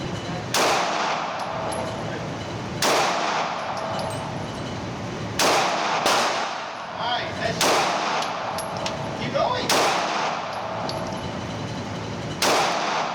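A Sig Sauer P365 XL pistol fires six sharp, loud shots spaced about two seconds apart, each followed by a short ringing tail over a steady outdoor background.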